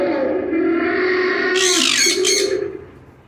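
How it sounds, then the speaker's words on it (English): A loud animatronic dinosaur roar at an outdoor attraction in Mexico, a drawn-out rumbling bellow that swells into a harsh, echoing screech and then fades away, heard up close with no talk over it. "The birds seem to be scared of the dinosaur noise."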